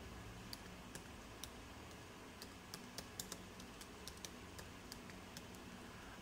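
Typing on a laptop keyboard into the Windows search box, a quiet run of separate key clicks in an irregular rhythm against a low steady room hiss, with no talk.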